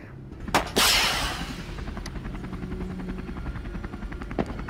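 Helicopter in the video game Rec Room, a steady rhythmic rotor chop close by after a sharp burst and loud whoosh at the start, continuing alone without speech.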